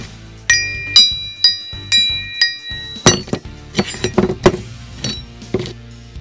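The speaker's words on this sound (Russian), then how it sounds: "Вот так звучит мой китайский топор" Metal rings out with sharp, bell-like clinks as an old Chinese axe head is struck repeatedly, about a dozen strikes, some quickly overlapping, each tone ringing briefly.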